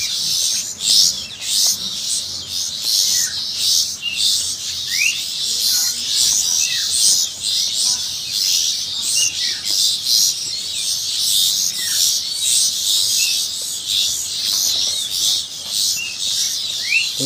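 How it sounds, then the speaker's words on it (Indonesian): Continuous high-pitched chirping and cheeping from about two-week-old long-tailed shrike chicks, busy and overlapping throughout, fairly close, with no talking. "Ini anakan burung candat umur perkiraan 2 mingguan."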